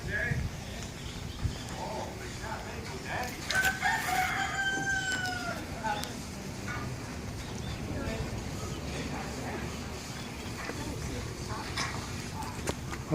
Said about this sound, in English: You could hear the rooster crow earlier.